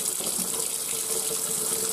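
Hot water runs steadily from a Quooker Fusion kitchen tap, a close, continuous hissing gush into the sink with no talk over it.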